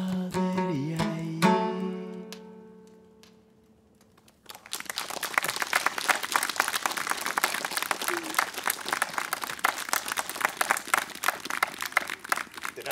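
An audience claps at an outdoor skaldic concert on a Norwegian Bronze Age farm, breaking into dense, sustained applause after a sung phrase fades into a brief quiet.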